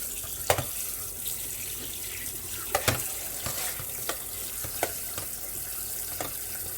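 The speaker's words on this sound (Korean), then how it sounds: "흐르는 물에 깨끗하게 한번 씻어 주세요." Beef short ribs are rinsed under a running kitchen tap, a steady hiss of flowing water with scattered clinks and thumps as the meat is handled in the sink; no one speaks.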